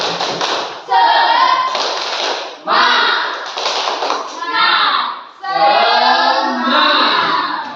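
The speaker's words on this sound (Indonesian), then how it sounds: "kita tepuk semangat kembali ya. Oke, tepuk semangat." A group of education trainees doing tepuk semangat, a patterned spirit clap: close, loud bursts of rhythmic hand claps in repeated phrases separated by brief pauses, with voices mixed in.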